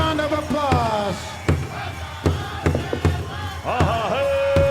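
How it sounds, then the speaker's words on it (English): Crowd cheering at the 2018 Gathering of Nations Pow Wow during Friday gourd dancing: loud whoops and rising voices mixed with sharp, scattered claps and hits, close and energetic. "Some noise, big round of applause, let's hear it out there."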